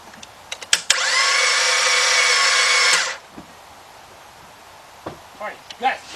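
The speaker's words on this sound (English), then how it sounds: "Because when you hear the engine does sound like that, that means there is no compression." A Ford Fiesta engine cranks with no compression, giving a steady, even whirring drone for about two seconds before stopping abruptly, with a few faint clicks and light handling sounds around it.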